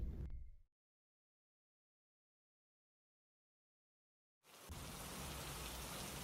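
Heavy rain pours on a stormy night in an animated story, a dense, loud wash of falling water that cuts in after a stretch of silence and continues steadily.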